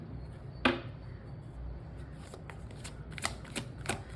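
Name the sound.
shuffling tarot cards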